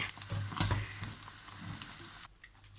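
Pork rinds bubble and crackle in boiling water nearby, a dense popping sizzle that eases off toward the end.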